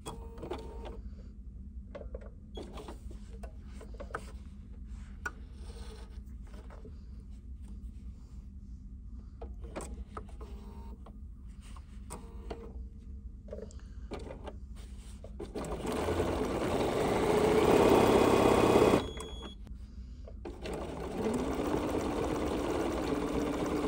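A sewing machine free-motion quilts a steampunk-themed dopp bag, running as a soft, steady patter of quick stitches that swells into a louder, faster sustained run near the end, close up with no voices.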